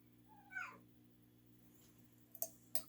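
A cat in a home kitchen lets out a single short meow, fairly clear and close over a faint steady hum, followed later by a few sharp clinks.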